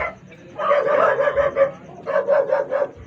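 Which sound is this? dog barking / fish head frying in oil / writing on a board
dog barking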